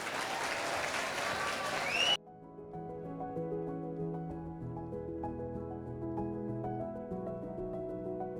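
Dense audience applause at a 2021 college fest breaks out loudly, then cuts off abruptly after about two seconds, giving way to quieter sustained stage music with a tonal, melodic texture.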